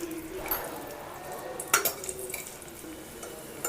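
Raisins frying in ghee in a pan, a faint, steady sizzle broken by a few light clinks and scrapes of a stirring spoon, close by with no talking.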